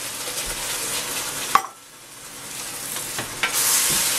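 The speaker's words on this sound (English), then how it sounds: "I'm going to stir these into the onions and the garlic." Diced fire roasted tomatoes are stirred into frying onions and garlic, with a sharp clack of a utensil, a brief drop in sizzle, then the hissing rising again.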